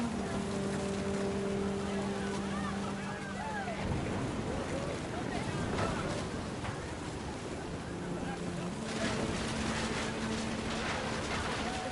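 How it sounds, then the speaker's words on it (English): Heavy rain pouring down on a crudely made tent in the video game What Remains of Edith Finch, a steady dense wash that fills the whole scene, with a low tonal hum beneath it and brief gaps in the hum. "The rain came down in buckets then"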